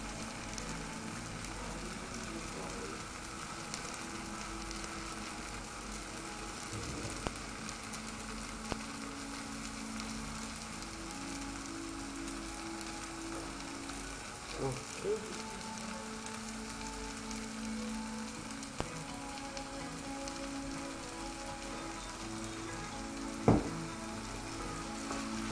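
Yangzhou fried rice with oyster sauce being stirred in a pan, giving a soft, steady frying hiss with faint scrapes and a few clicks. One louder knock comes near the end, and no one speaks.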